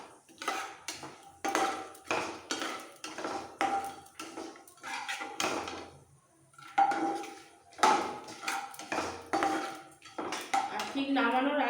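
Semolina is stirred and lightly fried in ghee in a pan, with repeated scraping and clinking of a metal spoon against the pan in quick bursts, close and fairly loud, with short pauses between.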